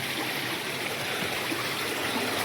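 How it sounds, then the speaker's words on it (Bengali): A mountain stream in the hills of Purulia flows in a constant, close, hissing rush of water with no pauses and no voices over it. "এখান দিয়ে জল আসছে। ওই নিচ থেকে চলে যাচ্ছে।"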